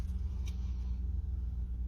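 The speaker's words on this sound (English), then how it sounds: "pardon the traffic noise" Low rumble of passing road traffic hums continuously in the background, steady and muffled, with a couple of faint brief clicks.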